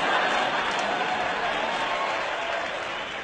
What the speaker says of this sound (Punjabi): ਉਹਨਾਂ ਵੀ ਤਾੜੀਆਂ ਮਾਰੀਆਂ ਨੇ